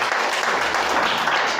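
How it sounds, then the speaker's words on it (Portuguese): A church congregation breaks into steady, dense applause that fills the space evenly, with no pauses, for just under two seconds. "Quem crê pode aplaudir."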